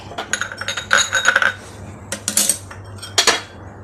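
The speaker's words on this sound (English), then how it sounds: "see, 2 small spoons of mustard seeds" A metal spoon clinks repeatedly against a pan and dishes while mustard seeds are added for Kerala pulinji, with bright, irregular close-up taps and clatters over about four seconds and no talking.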